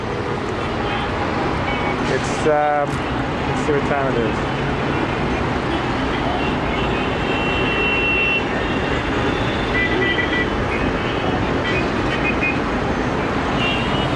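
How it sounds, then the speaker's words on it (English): Busy Cairo street traffic at dusk, a dense continuous roar of cars, trucks and buses with honking and a brief beeping, while someone speaks briefly over it. "these are the sounds of the traffic."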